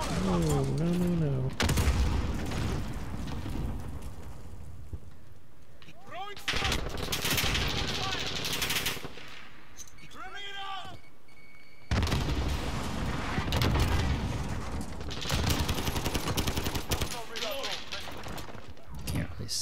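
Gunfire in a Modern Warfare multiplayer match: bursts of automatic fire and loud shots keep coming, mixed with game voice callouts and effects, and a player talks over much of it.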